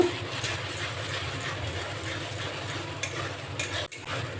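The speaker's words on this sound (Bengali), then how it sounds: "লঙ্কা গুঁড়ো দিয়ে আমি একটু নাড়াচাড়া করে নিয়েছি" Mixed vegetables with Kashmiri chili powder stirred in a pan, a continuous rough, shuffling scrape with rhythmic pulses over a low background, close and steady, with no clear speech.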